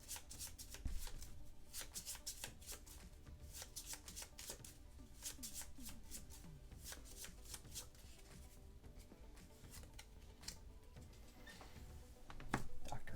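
Playing cards for the Star Wars Outer Rim board game being shuffled by hand, a steady run of crisp riffling and patting close by that lasts throughout, with a louder flurry near the end.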